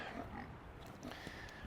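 Pigs grunt and snuffle as they come out of the woods to grass pasture, a low, continuous rumble of oinks at moderate distance with no talking.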